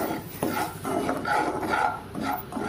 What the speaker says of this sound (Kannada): ಅವನು ಇನ್ನು ತೆಂಗಿನಕಾಯಿ ತುರಿಯೋದ್ರಲ್ಲೇ ಇದ್ದಾನೆ